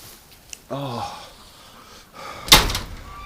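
A loose door with no latch bangs shut in a single loud, sharp slam, preceded by a brief sniff and faint rustling nearby.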